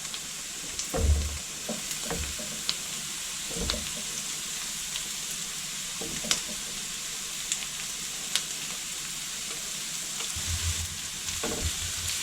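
Grated carrot and onion fry in a pan with a steady, close sizzle, broken by a few soft stirring scrapes and low thumps, and no voice.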